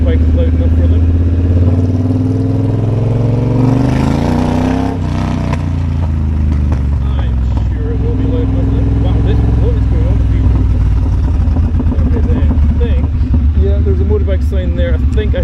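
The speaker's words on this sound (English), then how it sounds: "Hopefully my bike is loud enough for them." Motorcycle riding through Edinburgh city streets, a steady loud engine drone under the rider's ongoing talk, with the pitch rising and easing as it accelerates and slows.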